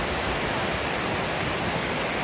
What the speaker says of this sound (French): on va marcher le long de la cascade et on va aller voir la cascade qui est tout au fond là